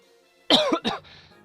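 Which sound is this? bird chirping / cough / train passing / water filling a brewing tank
cough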